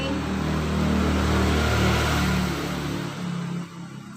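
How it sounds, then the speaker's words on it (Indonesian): A car or motorbike passes loudly in front of a house, its engine roar swelling over a couple of seconds before dropping away as it moves off. "karena di depan rumah jadi sering mobil atau motor lewat jadi agak keras suaranya ya"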